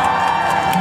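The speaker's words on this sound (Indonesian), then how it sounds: "tepuk tangan guys." A concert crowd at Eureka Fest in Jakarta cheers and whoops loudly and continuously, a dense wash of voices filling the whole moment.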